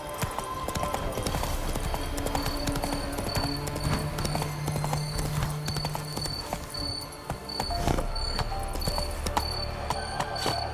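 Hooves of a horse galloping in The Witcher 3 on Death March difficulty, a steady rapid clip-clop running throughout over game music and ambient insect chirps.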